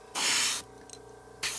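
A small spray can lays light dusting passes of paint onto a Bachmann On30 side dump car model: two short, close hissing bursts, the first about half a second long, the second starting near the end, with quiet between.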